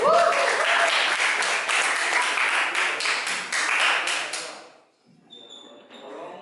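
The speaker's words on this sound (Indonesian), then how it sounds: "Aplaus dulu buat kelompok satu." Classroom applause for a student group, a dense burst of many hands clapping close by for about four seconds before stopping abruptly, followed by quiet room tone.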